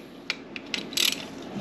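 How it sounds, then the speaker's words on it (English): A socket wrench ratcheting on the oil pan of a 2015 Yamaha R3 motorcycle, giving a few brief close clicking bursts followed by a quicker run of ratchet clicks. "And then get your socket wrench again."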